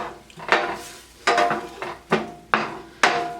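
Metal utensil clanks and scrapes against a pan as onions and garlic are stirred into melting butter, five or six sharp knocks spaced about half a second apart, close and fairly loud, with faint sizzling between them.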